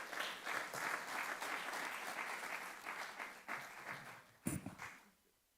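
Audience at an oil and gas industry conference in Nigeria applauds in a steady, even wash of clapping, fairly faint and distant, dying away at the end after a brief louder knock.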